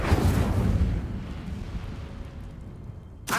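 Incendio fire spell cast in Hogwarts Legacy, a loud booming burst of flame that rumbles and fades over a few seconds before another sharp hit at the end.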